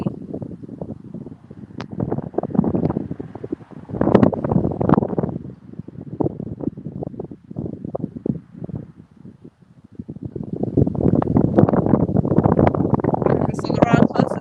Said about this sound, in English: Again, I apologize for the wind.